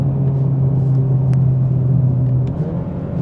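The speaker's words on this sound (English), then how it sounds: "Road noise you do hear a little bit on the concrete pavement" Inside a Kia K5 GT on concrete pavement, a constant low rumble of tire and road noise fills the cabin under a steady engine hum, even and unbroken throughout.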